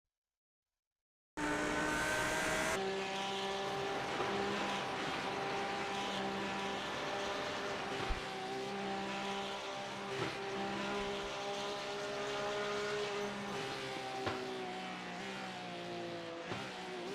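Porsche race car in the iRacing simulator at Bathurst during a 12-hour endurance race, its engine droning steadily with harmonic whine, gear shifts and occasional sharp bumps, loud and continuous without talk.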